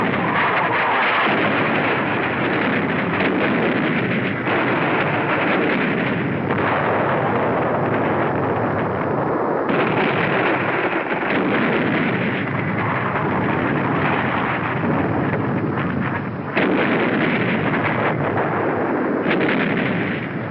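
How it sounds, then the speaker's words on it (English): Naval artillery bombardment of Iwo Jima in 1945, heard as a sustained, dense roar of shelling and blasts that stays loud and continuous throughout, with no voices. "The Navy begins to soften up the island so we can land."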